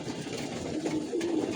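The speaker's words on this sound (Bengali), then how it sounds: "এই যে দেখেন কবুতরগুলা কেমন ছটফট করতেছে" Restless pigeons in a rooftop loft give a faint, brief low coo over soft background rustle.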